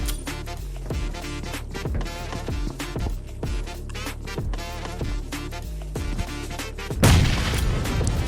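A grenade explodes in a video game with a loud, broadband boom near the end, following several seconds of steady, beat-driven game music.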